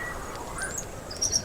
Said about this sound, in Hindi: ये तो कोई प्रवासी पक्षी है